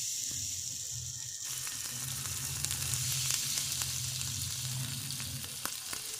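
Paneer tikka sticks frying on a hot tawa over a low flame, a steady crackling sizzle with a few small clicks and pops near the end.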